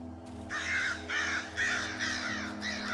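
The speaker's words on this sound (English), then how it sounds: "Crows." Crows cawing in the horror video game Darkwood, four or five harsh caws in an uneven sequence over a low, droning ambient music bed.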